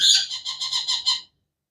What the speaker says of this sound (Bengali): খুবই কোয়ালিটিফুল আফ্রিকান গ্রে প্যারট, কঙ্গো সাইজের